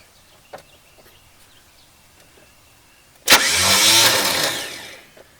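A 1981 El Camino, left on a trailer for 21 years, has its starter crank the engine in one loud sustained burst of about two seconds after a quiet lead-in, then fade.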